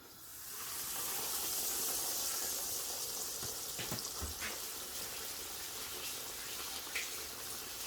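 Chicken katsu sizzles and hisses in hot oil in a pan, a steady bright frying noise that holds fairly loud throughout with a few faint clicks and knocks, and no voices.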